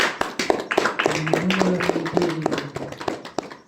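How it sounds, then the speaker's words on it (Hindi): A congregation at an all-night prayer meeting claps in a steady rhythm, sharp close hand claps repeating under a voice singing or chanting. "अन्य सोने वालों को जगने वाला उठाने वाला बनकर ताली बजाइए।"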